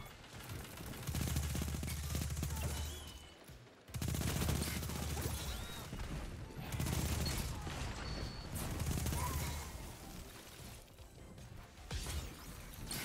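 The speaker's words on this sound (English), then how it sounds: "He's AFK and I'm shooting the wall." Rapid automatic gunfire in a first-person shooter video game, bursts of shots hammering a wall in repeated sustained volleys with brief gaps, fairly loud and continuous over several seconds.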